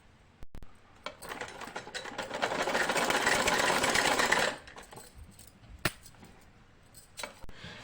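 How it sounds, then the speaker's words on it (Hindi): An electric sewing machine stitches blouse seams, a steady whirring run of rapid needle strokes lasting a few seconds, then stopping, with faint clicks and handling noises before and after. "अब हम मुड्डे जोड़ेंगे, मुड्डों की सिलाई करेंगे।"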